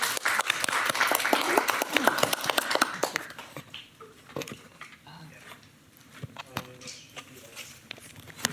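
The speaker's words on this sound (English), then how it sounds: "If we could give her a round of applause for that." An audience at a teen talks event claps loudly for a young speaker. The applause is dense for about three seconds, then thins to scattered claps and light crowd murmur.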